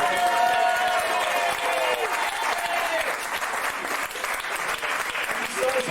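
Applause from a crowd of diners at a hash club dinner and dance, a dense, steady clapping that fills the room for several seconds with a few voices and whistle-like cheers mixed in.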